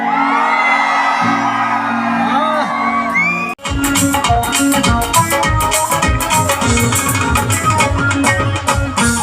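A loud crowd at a live Dussehra concert in Amloh, Punjab, erupts in whoops, shouts and cheering, dense and sustained after a brief pause, following a stretch of music or voices.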